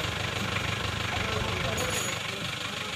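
A diesel Isuzu Panther 2.3 engine idles with a steady, rough, low rumble and fast knocking pulses, close and loud throughout.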